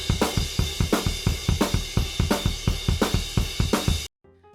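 Drum kit groove in the style of a rock song, with a quick 16th-note bass drum hit right after the snare on beats 2 and 4, played steadily and crisply for about four seconds before stopping.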